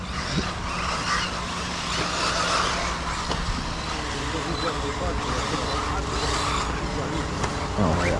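Hobbytech NXT XR brushless 1/8-scale RC buggy driving on a flat surface, a steady whining motor and tyre roar running throughout at a fairly close distance, with someone talking over it at times.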